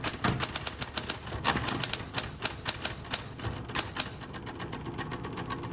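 Rapid clacking keystrokes from a 1960s Spa Blue Coronet electric typewriter come in quick uneven bursts over a steady motor whir, close up, tapering off toward the end.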